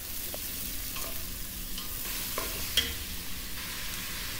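Onions and fennel seeds fry in hot oil for a Kadaknath black chicken gravy, giving a steady close sizzle with occasional sharp clicks and scrapes from stirring, and no voices.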